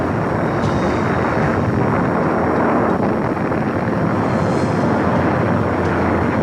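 World War II bomber airplanes in flight, a loud, steady broadband engine drone with rushing wind noise throughout, no voices.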